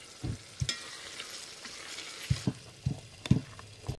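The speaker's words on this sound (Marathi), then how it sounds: "आता कांदा आणि टमाटर भाजत आले आता मिरच्या टाकतो" Chilies, onion and tomato sizzle and fry in a pan while a spoon scrapes and stirs in short, irregular strokes, close by with no talking.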